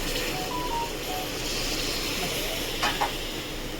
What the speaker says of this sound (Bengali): দেখুন বন্ধুরা, এর মধ্যে আমি জল দিয়ে দিচ্ছি